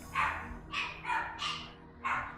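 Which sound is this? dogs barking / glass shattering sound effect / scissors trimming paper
dogs barking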